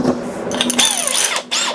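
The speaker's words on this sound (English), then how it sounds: "So I just like to use a 1-inch spade bit" A power drill with a 1-inch spade bit boring a hole for a tub spout pipe, a loud close whirring that rises and falls in pitch, briefly stops, then spins up again.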